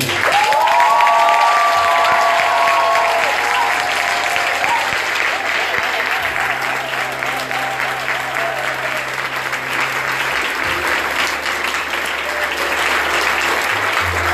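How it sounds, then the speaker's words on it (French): Church congregation at a parish vigil applauding and cheering steadily, a loud continuous wash of clapping with crowd voices and a sustained tone running underneath throughout. "Tu as applaudi, mais je te demande maintenant d'acclamer Jésus fortement."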